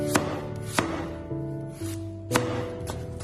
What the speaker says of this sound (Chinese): 去皮之后，我们也将胡萝卜先切成薄片